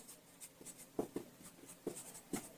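A pen writes out a Class 10 coordinate geometry solution by hand. Quick, close scratchy strokes come in short bursts with brief pauses, and no one speaks.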